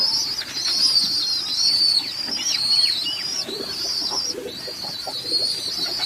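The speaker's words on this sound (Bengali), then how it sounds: "চিঁচি শব্দ অবশ্যই শুনতে পাচ্ছেন বাচ্চা আছে আমার অনেকগুলো" Many pigeon chicks in a loft's nesting boxes on a Bangladeshi pigeon farm chirping in thin, high repeated peeps almost without pause, fairly close, with faint rustling and low cooing underneath.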